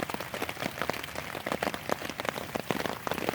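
Steady rain patters on a hammock tarp overhead, a dense, even hiss of close drops with small irregular taps throughout and no voices.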